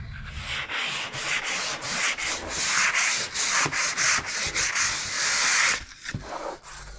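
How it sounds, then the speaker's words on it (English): Fine 220-grit sandpaper rubs back and forth across wooden boards in quick rhythmic strokes, close and fairly loud, with a brief pause near the end and no talking. "Going to take some fine sandpaper, 220 grit, and we'll sand down those boards."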